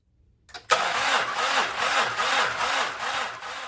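A car engine with a dying battery cranks over slowly in a labored, rhythmic chug of about ten even turns, starting abruptly after a click and continuing loud and close with no talking.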